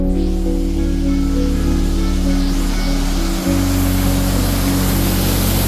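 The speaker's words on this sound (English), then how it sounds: "It's a full-blown waterfall." A full waterfall at Fontana Dam roars close and loud, a constant heavy rush of falling water with a low steady hum beneath it, unbroken for the whole stretch.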